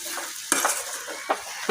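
Poppy seeds and turmeric powder frying in a pan for spinach pulao, a soft sizzle punctuated by three short scraping stirs of a spoon against the metal.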